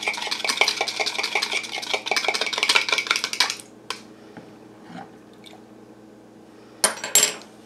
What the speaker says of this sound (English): I'm going to get a fork here, and I'm just going to beat up these eggs